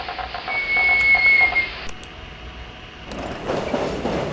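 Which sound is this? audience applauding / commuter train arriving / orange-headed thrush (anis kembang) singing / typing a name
commuter train arriving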